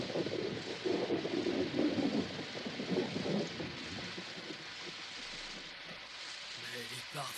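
Rain pours steadily outside a small cave while low thunder rumbles through the first few seconds, then the storm settles into a softer, even hiss of rainfall.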